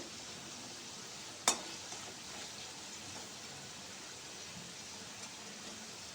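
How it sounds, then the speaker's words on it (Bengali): Cut potatoes frying in hot mustard oil, a faint steady hiss with one sharp clink near the start, quiet and continuous throughout. "এখানে দুটো আলু কেটে আলুটাকে প্রথমে ভেজে নেব"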